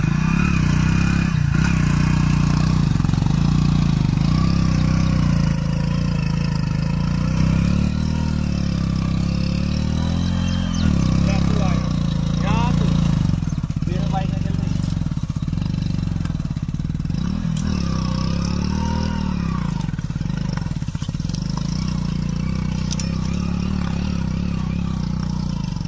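A Hero Splendor motorcycle engine runs continuously nearby, its buzzing drone rising and falling with throttle changes, with some clatter and occasional background voices.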